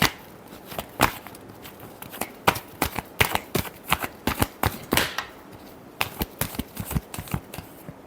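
Tarot cards are shuffled by hand in a quick run of sharp, close slaps and riffles, irregular but steady, with a brief pause partway through before the shuffling resumes.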